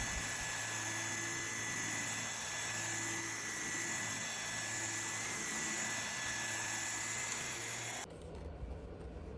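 A powerful ECOVACS DEEBOT T30S handheld vacuum runs steadily at close range while picking up dog hair from a couch, a loud, continuous whine that cuts off near the end, leaving a quieter hum.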